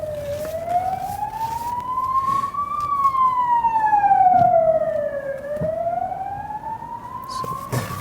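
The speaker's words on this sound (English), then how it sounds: "that's an ambulance" An ambulance siren wails up and down in slow sweeping cycles, loud and close, over road rumble as the vehicle goes by.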